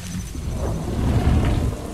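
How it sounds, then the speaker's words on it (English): Rain and rolling thunder in The Isle dinosaur video game, a steady dense hiss of rainfall over a low continuous rumble that swells slightly midway, with no talk. "Oh, it's raining now."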